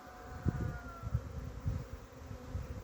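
A swarm of honey bees buzzes around a beehive, a close, continuous droning hum with a few louder swells.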